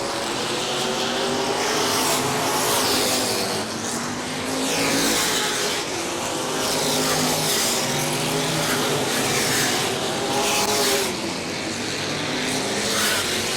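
Race cars lap Auburndale Speedway in a weekly short-track race, their loud, continuous engine roar swelling and fading as they pass in a steady rhythm, with no voices over it.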